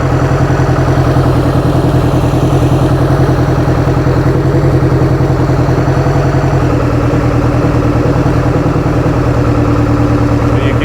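A rebuilt boat engine runs loud and steady, idling roughly with a constant throb and mechanical clatter that holds through the whole stretch, with no clear voice over it.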